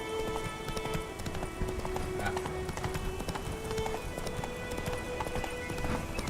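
Roach the horse galloping in The Witcher 3, hooves clip-clopping in a fast, steady rhythm close by, with a brief tonal whinny-like sound partway through and some background game ambience.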